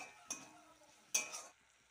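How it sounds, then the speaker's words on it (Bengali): Spice masala with green chillies being sautéed in oil in a pan: a soft steady sizzle with two sharp scraping clicks of a spoon stirring, close and quiet, fading at the end. "দিয়ে আমি মশলাটাকে আবারও ভালো করে কষিয়ে নিচ্ছি"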